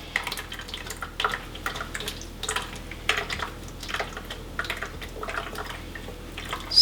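Juice from a cooked Thai basil salmon dish strained out of a pan, a run of irregular liquid drips and splashes with light clinks, close and fairly quiet.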